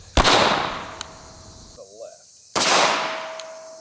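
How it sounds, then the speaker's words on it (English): Two sharp, loud 9mm pistol shots from a Canik TP9 SFX fired into blankets, roughly two and a half seconds apart, each a hard crack followed by a ringing, fading tail. "We're gonna go straight to the 9mm, and we're shooting this out of the Canik TP9 SFX."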